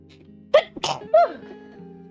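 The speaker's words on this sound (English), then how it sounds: "You only sneezed once." A single sharp sneeze, close and fairly loud, breaks over a quiet stream backdrop with a faint tonal hum and light voices around it.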